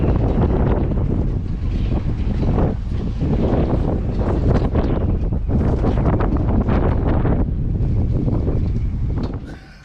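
Strong wind buffets a boat tied up in Brixham harbour under raised canopies, a loud, continuous rumbling roar of gusts across the microphone that eases off only at the very end.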